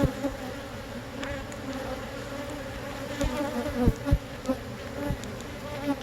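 A honeybee carrying pollen baskets buzzes close by near a hive entrance, a steady droning hum with a few sharper passes as bees fly around.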